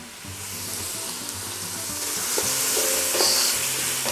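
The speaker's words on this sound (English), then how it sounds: "Just need to fry this onion off for a few minutes to get it started" Onion fries in a pan with an even sizzle that grows slightly louder toward the end, close and alone with no voices.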